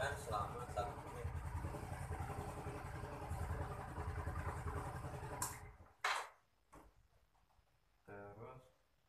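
Motorcycle engine started after sitting in lockdown storage, running steadily for several seconds with a mid-pitched idle before cutting off, followed by brief clicks and a short burst of talk.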